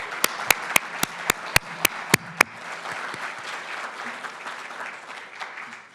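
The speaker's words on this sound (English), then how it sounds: "Can I get an applause?" Audience at a financial inclusion conference applauds, opening with a few loud, evenly spaced near claps from one person before a broad, steady wash of crowd clapping fills in behind.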